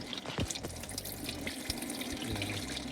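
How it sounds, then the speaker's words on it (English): Water trickles down through the small watering holes of a Greenstalk vertical planter, giving a steady, soft trickling wash with a few faint knocks, close by and with no talking. "water is still just from the holes up top, the little watering holes. It's trickling down"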